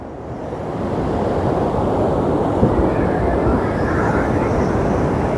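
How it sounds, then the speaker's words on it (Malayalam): Sea waves at a beach, with cool sea breeze, produce a steady, broad roar of surf, loud and continuous with no talk over it. "തിരമാലകളും"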